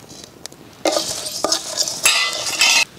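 Coriander seeds, dried chilies, fennel, cloves and cumin dry roasting in a pan, with bursts of scraping and stirring, dry rattling and faint sizzle over quiet gaps.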